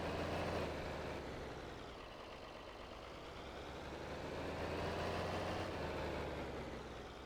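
A John Deere 4020 tractor engine in Farming Simulator 22 drones steadily at a low idle, a continuous even rumble that swells slightly and eases back with no voices over it.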